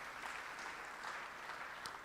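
Church congregation clapping during a sermon, a faint, distant wash of steady applause from a crowd, with no voices over it.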